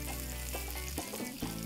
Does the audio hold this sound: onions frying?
yes